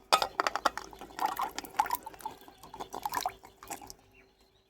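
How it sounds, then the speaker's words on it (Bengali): Jackfruit seeds tumble into a bowl of lemon-squeezed water, giving a quick scatter of small splashes, plops and drips with a few knocks against the container, close and fairly quiet, fading out toward the end. "এবার দিয়ে দিতে হবে এই কাঁঠালের বীজগুলো এই জলের মধ্যে।"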